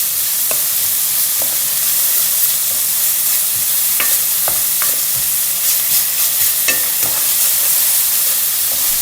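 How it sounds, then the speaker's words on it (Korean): Chili peppers tossed in mala sauce with garlic and green onion sizzle loudly over the highest heat, a constant close hiss broken by sharp scrapes and clacks of a spatula stirring the pan. "가장 센 불에서 1분 정도 볶으면 완성됩니다"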